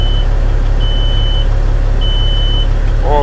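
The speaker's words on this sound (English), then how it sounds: "Your warning buzzer for the air PSI is fully working." A truck's air-pressure warning buzzer sounds in a steady high tone, in three separate bursts of about half a second each, over a loud, constant low idle rumble from the cold engine.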